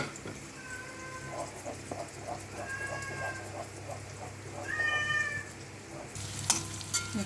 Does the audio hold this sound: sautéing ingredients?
yes